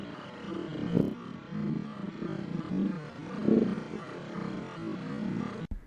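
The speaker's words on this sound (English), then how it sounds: "That's the sound of the moonworm you guys are hearing right now." A deep, rumbling roar attributed to a fictional moonworm, swelling in several growling surges over a few seconds, loud and close with no talking, ending abruptly.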